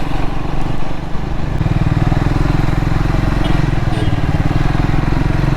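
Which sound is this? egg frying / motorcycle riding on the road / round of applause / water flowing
motorcycle riding on the road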